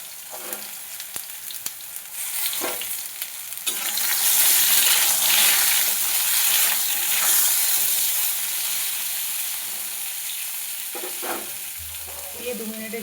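Potatoes, brinjal and drumstick sizzle in hot oil in a pan. A soft crackle with a few stirring clatters swells into a louder, steady hiss a few seconds in, then eases slightly while frying continues alone with no talk.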